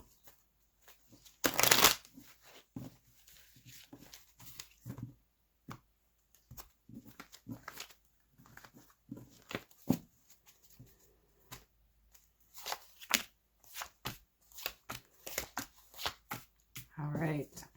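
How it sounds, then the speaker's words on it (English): Tarot cards are shuffled by hand in quick, crisp riffles and flicks with irregular pauses, close and clear, while someone talks softly between the bursts. "Got one more shuffle here."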